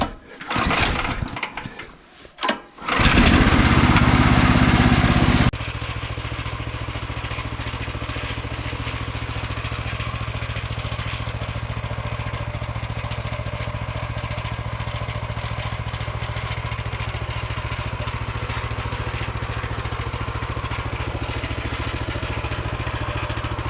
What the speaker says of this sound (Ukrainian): просто відкриваємо краник і пробуємо заводити